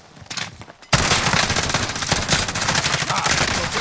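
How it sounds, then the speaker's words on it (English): Enemy automatic gunfire in Call of Duty: Modern Warfare bursts in loudly after a quieter opening, continuing as dense, sustained shooting for several seconds. "Another one. Shooting at me."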